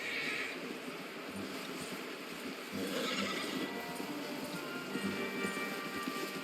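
Horse in the video game Red Dead Redemption 2, a whinny and hoof sounds over a continuous outdoor background, moderately faint.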